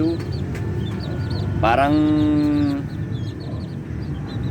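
Gamefowl chicks peep and a rooster calls in a flock bred for fighting, with a steady clucking chorus, one loud rising-and-falling crow in the middle, and faint talk underneath.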